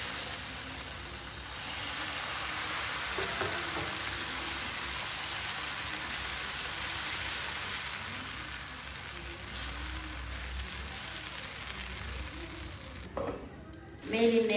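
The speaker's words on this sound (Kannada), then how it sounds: "ಈಗ ಕಾದ ತವ ಮೇಲೆ ಈ ದೋಸೆ ಹಾಕು." Dosa batter mixed with greens spreads and fries on a hot tava, a steady broadband sizzle running close and continuous for most of the clip before a brief clatter near the end.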